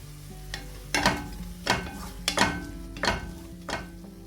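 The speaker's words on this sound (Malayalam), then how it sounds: "1 ടീസ്പൂണ് മുളക് പൊടി, ഒരു 1/2 ടീസ്പൂണ് ഗരം മസാലയും കൂടി ചേർത്തിട്ട് നന്നായി മൂപ്പിച്ചെടുക്കാം." Chilli powder and garam masala roasting in a pan for a spicy chicken oats soup, heard as a soft sizzle under regular scraping stir strokes about every second, close and without any talking.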